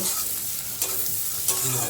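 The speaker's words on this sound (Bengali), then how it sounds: "নুডলস বানাবো একটু সবজিটা ভাজি গাজর ক্যাপসিকাম আর পেঁয়াজটা এই যে হালকা ভাজা হয়ে গেলে" Sliced carrot, capsicum and onion stir-fried for noodles, giving a steady close sizzle with scraping stirring sounds and a couple of louder clatters, with no talking.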